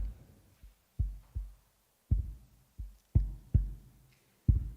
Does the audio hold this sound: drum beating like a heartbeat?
yes